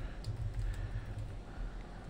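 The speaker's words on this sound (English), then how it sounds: "I'll type this one in again." Keys tapped at an even pace on a computer keyboard while a password is typed into a sign-up form, soft and close, with a faint low room hum underneath and no talking.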